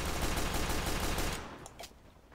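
A Team Fortress 2 weapon that shoots scrap metal fires a dense, loud rapid burst for over a second, then cuts off into a few scattered clanks and shots trailing away.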